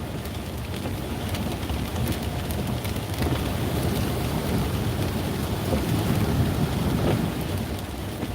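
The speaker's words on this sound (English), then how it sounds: "Man, that thunder sounds so good" Thunder rumbles low and distant under steady heavy rain and some wind during a flash-flood storm, the roll blending into the continuous downpour without sharp cracks.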